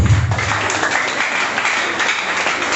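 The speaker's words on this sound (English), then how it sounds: "Please, can you give her a round of applause?" Audience applause at an information technology debate competition, a short burst of clapping from many hands, fairly close and loud, lasting under three seconds.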